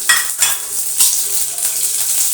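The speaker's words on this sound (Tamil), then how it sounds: "இப்போ நம்ம தாளிக்க போகிறோம் கடுகு ஜீரகம் எல்லாத்தையும் போடுறோம்" Mustard and cumin seeds sizzle and crackle in hot oil, a steady bright hiss with scattered pops and a few stirring scrapes, close up and with no talking.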